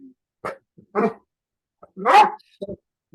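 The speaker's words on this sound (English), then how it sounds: "I just heard your dog agree with that statement." A dog barks a few times in short, separated bursts, with one louder bark near the end, close by and otherwise quiet.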